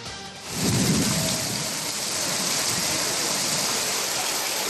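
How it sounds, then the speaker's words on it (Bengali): Steady, loud rain pours down in Bankura, West Bengal, a dense continuous hiss that swells in after a brief quieter moment and holds unbroken, with no voices. "বাঁকুড়ায় স্বস্তির বৃষ্টি"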